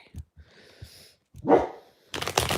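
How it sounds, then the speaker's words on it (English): A dog barking in its sleep gives a few soft, muffled woofs and whimpers, then a louder huffing bark, close by and otherwise quiet. "He's barking in his sleep."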